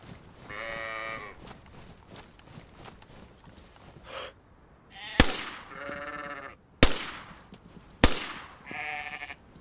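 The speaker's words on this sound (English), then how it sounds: "There's like only one sheep left though. But there is a sheep." Sheep in the DayZ Livonia game bleat in a field, several separate harmonic cries spaced across the scene, with a few sharp loud cracks like gunshots cutting in near the end.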